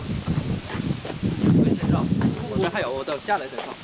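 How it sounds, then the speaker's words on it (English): Strong wind gusts buffet the microphone outdoors on the Huanghuacheng section of the Great Wall near Beijing, with a rough low rumble. People talk close by over the wind. "It's really windy out today."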